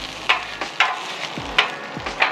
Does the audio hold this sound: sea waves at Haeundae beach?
no